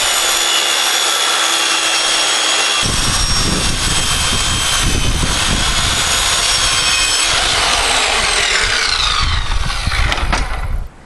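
A power saw rips a quarter inch off a wooden board for a board-and-batten exterior wall, a loud, steady whine that sets in at full strength and runs unbroken for about eleven seconds before cutting off, with no talk.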